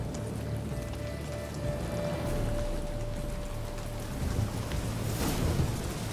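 Steady rain pours in the Witcher 3 Blood and Wine game world, a continuous hiss of falling water with a low rumbling undertone, fairly loud and unbroken throughout.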